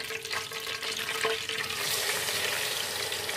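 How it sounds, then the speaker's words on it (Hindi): Chicken pieces frying in hot cooking oil in a karahi, a dense steady sizzle with crackling spatter that swells louder in the second half, close and continuous with no talking. "चिकन को हमने जब तक फ्राई करना है जब तक इसका कलर चेंज ना हो जाए।"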